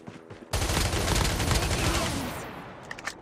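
Rapid automatic fire from an AK117 rifle in a mobile battle royale game, a dense loud burst of shots lasting about two seconds before tapering off, with a few sharp single reports near the end.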